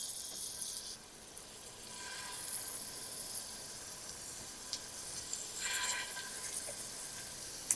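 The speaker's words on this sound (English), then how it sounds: "we're just gonna drop in our meatballs and cook them until they're brown" Chicken curry meatballs sizzle and brown in hot oil in a sauté pan, a steady faint frying hiss with occasional louder crackles and spatters.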